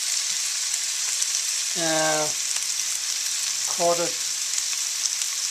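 Tomato sizzling in a pan, a steady broad hiss of frying that runs throughout, with two short spoken bursts over it.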